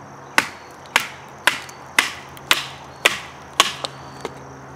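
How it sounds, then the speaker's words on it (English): A 3V steel knife batons through wood outdoors in sunny, dry weather, giving seven sharp, evenly spaced chopping thwacks about half a second apart, with a couple of lighter taps at the end. "if you're gonna baton wood, 3V knife with this thickness and this grind and this length"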